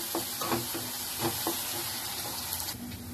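Chopped onion frying in a pan with fresh curry leaves while making a Maharashtrian sprouted val bean dish, with a steady close sizzle, soft stirring scrapes and a brief tap-like rush near the end.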